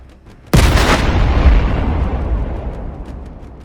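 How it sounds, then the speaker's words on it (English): A tank's engine detonates after an FPV drone strike ignites its fuel, a single sudden, massive blast that bursts in loudly and then rolls into a long, slowly fading rumbling roar. "Causing a massive explosion that sent metal fragments flying skyward."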